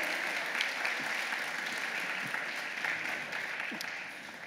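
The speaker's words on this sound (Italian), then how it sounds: "Applauso." A crowd at a brass band's 30th anniversary concert in Buie applauds steadily, a dense wash of clapping that slowly fades, heard from some distance.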